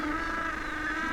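African penguins calling in an urban colony, a continuous layered chorus of nasal, honking brays, fairly loud and close, with no talk over it.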